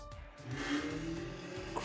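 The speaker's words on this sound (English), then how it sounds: "Loud car." A loud car roars through a scene in the video game Danganronpa V3: Killing Harmony, a steady engine-like drone with tonal whine holding for about two seconds, close and fairly loud.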